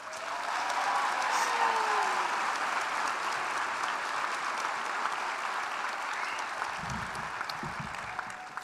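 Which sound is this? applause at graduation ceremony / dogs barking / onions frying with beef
applause at graduation ceremony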